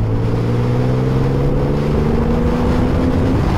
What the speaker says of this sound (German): Fünfter Gang, 63. Ich gebe mal Gas.